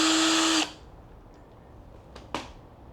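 A power drill drives longer screws into a bicycle tire fitted with a Tannus Armour foam liner: a loud, close whine for about half a second, then sudden quiet with a couple of faint clicks and a short knock.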